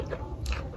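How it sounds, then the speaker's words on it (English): A single quick bite into a soft, juicy shawarma wrap makes a short, moist crunch close to the mouth, with no talking. "When you bite, suck in the juice"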